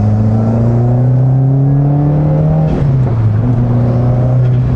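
Protuned 9th-gen Honda Civic Si with a lightweight single-mass flywheel revving hard, a loud buzzy engine note climbing steadily, dipping briefly as it shifts, then pulling up again, heard close and alone.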